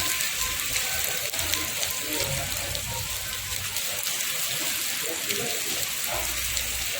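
Steady morning rain falling in Palembang, a continuous broadband hiss of drops on surfaces, moderately loud and even throughout with no talk.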